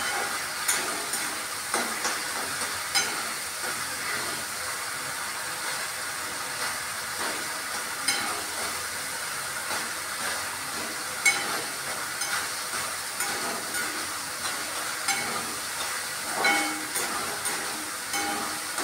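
Masala spices frying in a pan for a papad vegetable curry, a continuous hissing sizzle with soft stirring scrapes and occasional pops, close and steady with no voices.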